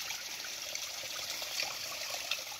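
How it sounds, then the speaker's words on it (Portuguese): Spring water from a mountain source trickles and splashes steadily over rocks, a continuous close bubbling wash with no voices. "E essa água aqui, ela vem do mesmo olho d'água, só que passa por local diferente."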